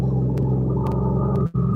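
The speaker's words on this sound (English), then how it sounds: "Let me let this truck go by." A truck rolls past outside, a low, steady rumble that holds throughout before briefly cutting out near the end.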